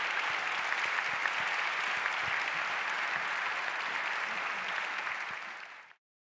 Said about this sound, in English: May we give our speakers a round of applause?